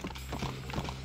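Hooves of an American trotter horse in the video game Red Dead Redemption, a quiet, rhythmic clip-clop of several quick steps over a brief moment with no talking.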